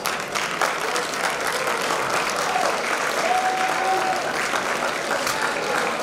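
Audience applause after a high school career day keynote speech, a sustained, fairly close burst of many people clapping at an even level for several seconds.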